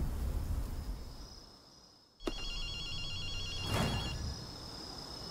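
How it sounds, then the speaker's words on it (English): A telephone rings in the video game Ghostwire: Tokyo, a repeating electronic trill that cuts in after a short hush and carries on over a low ambient background. "Akito, you hear a phone ringing?"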